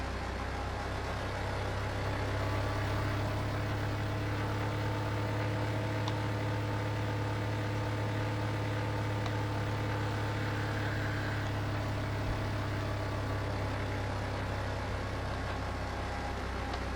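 Steady low drone of a big truck engine in a driving video game, a constant loud hum with tonal harmonics running the whole time, no voices over it.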